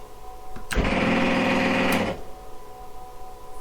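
An RV kitchen slide-out motor whirs for about a second and a half, starting and stopping abruptly with a click, fairly close and loud.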